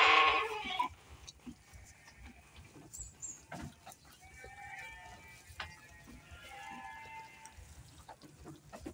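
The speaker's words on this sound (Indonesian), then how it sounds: "Nah, yang ini ada domba-domba crossing Barbados." Crossbred Barbados, merino and texel sheep in a pen give one loud, close bleat at the start. Fainter, longer bleats follow in the background over low farm ambience.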